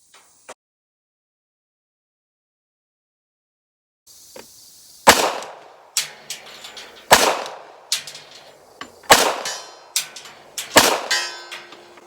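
Loud unsuppressed pistol shots ring out one by one at a steady pace, about five sharp cracks each followed by a metallic ringing from steel targets, outdoors during a test of a Dead Air Mojave 45 suppressor.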